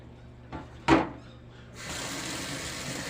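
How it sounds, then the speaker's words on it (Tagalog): After a couple of knocks, water is poured steadily into a bowl at close range, a continuous splashing wash that lasts to the end. "Tapos lalagyan natin tubig uli."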